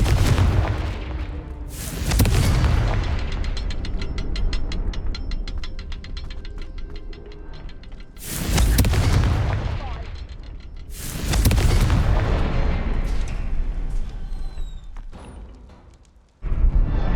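Confringo fire spell explosions in the Hogwarts Legacy video game: several loud booming blasts, one at the start and others around two, eight and eleven seconds, over a steady rumbling game ambience, with no one talking.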